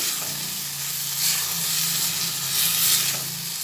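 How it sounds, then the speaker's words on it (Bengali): Potatoes and spices fry together in a pan while cooking a dal and egg fritter curry, a steady close sizzle with soft stirring swells, no talk. "সব মশলাগুলো একসঙ্গে ভেজে নিচ্ছি সব ভালোভাবে কষিয়ে নিচ্ছি"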